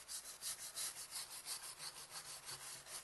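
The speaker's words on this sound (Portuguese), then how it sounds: "eu vou usar essa escova para tirar um pouco da fuligem. Uma escova de limpar solda." A soldering-cleaning brush scrubbing soot off a burnt wooden board edge, making close, rhythmic back-and-forth rasping strokes, about four per second, with no voices.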